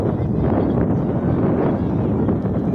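Steady wind rushes and buffets the microphone with a constant, low roar on a cold early morning at Baseco Beach, no voices heard.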